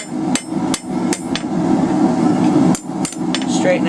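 A hand hammer strikes a hot steel bar on an anvil while forging a bottle opener key chain, with sharp metallic blows coming in an uneven rhythm, several close together, then a pause, then a few more.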